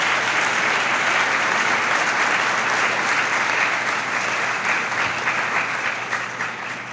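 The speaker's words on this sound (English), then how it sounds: "I want to give them a round of applause" A crowd at the 2025 Democracy Awards breaks into loud, close, sustained applause, a thick continuous clatter of many hands that tapers slightly near the end, with no talking.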